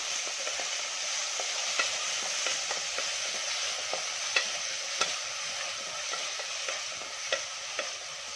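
Finely chopped tomato and onion frying in a pan for dal khichadi: a continuous soft sizzle broken by regular clicks and scrapes of a spoon stirring against the pan, close by with no talking.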